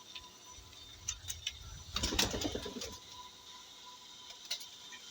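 Pigeons coo softly in a loft amid steady background noise, with a denser burst of fluttering and cooing around the middle and scattered faint clicks.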